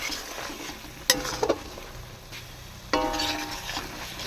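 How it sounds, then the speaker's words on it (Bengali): Spice paste sizzles and fries in a pan for a meat curry, with close scraping stirs and clanks of the spoon in a few bursts over a continuous crackle. "তো আমাদের মশলা কষানো হয়ে গেছে একদম দেখো মশলাটা"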